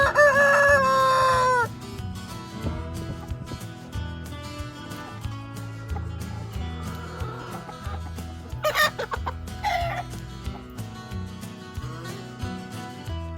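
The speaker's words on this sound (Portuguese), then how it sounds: "principalmente pela manhã, onde o canto do galo é um evento insuperável." A rooster and chickens on a farm at morning: a loud crow opens, then scattered clucks and calls rise over a thick, steady bed of music throughout.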